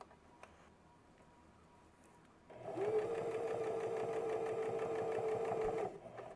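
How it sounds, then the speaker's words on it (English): A sewing machine, slowed down, stitches the flap onto a messenger bag in one continuous run of about three seconds after a quiet pause, close and steady before stopping. "if you can slow down your speed of your sewing machine, you might want to do that"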